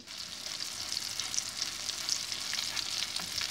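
A schnitzel fries in a pan with a soft, constant sizzle and light spitting crackles, fairly quiet and close, with no voices over it.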